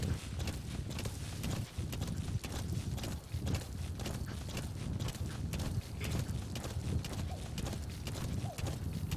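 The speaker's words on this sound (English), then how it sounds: "the way horses run kind of makes you feel weird" Horse gallops in the Metal Gear video game, its hooves clip-clopping in a fast, steady, rhythmic beat that continues for the whole stretch, fairly close and moderately loud.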